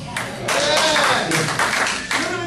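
A comedy club audience in Myrtle Beach claps and cheers in a loud burst, with a few voices shouting over the applause before it thins out.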